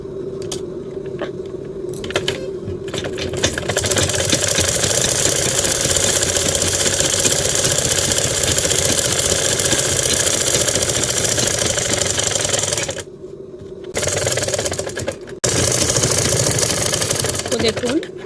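A sewing machine stitching lehenga blouse fabric runs in a loud, steady, rapid mechanical whir up close, stopping briefly twice before starting again.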